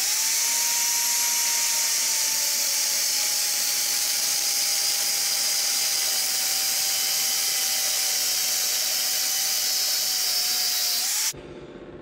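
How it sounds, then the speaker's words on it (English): An angle grinder fitted with a cutoff wheel trims a 13-bolt differential cover, one loud continuous high-pitched whine held for about eleven seconds before it cuts off abruptly, leaving a faint quieter tail. "I'm gonna start off with my grinder with my cutoff wheel"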